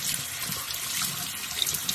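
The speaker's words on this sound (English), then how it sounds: "just rinse it under some warm water" Warm tap water runs steadily into a sink, rinsing jewelry after cleaning in an ultrasonic cleaner, a continuous close hiss with faint splashes and a couple of small drips near the end.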